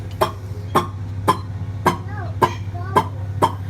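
A voice imitates a Florida alligator call, repeating a short guttural grunt about every half second, seven times in a steady rhythm against a low hum.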